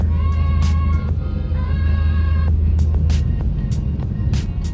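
Road traffic on a flyover in the Philippines gives a continuous low rumble of engines, with a few short higher tones and brief bursts of noise over it.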